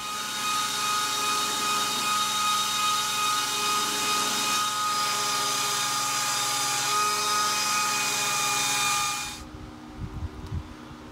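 A grinder shaping the handle of a forged Roman gladius gives a steady, loud whining hiss with a droning hum for several seconds, then cuts off, leaving quiet shop bumps and handling noises.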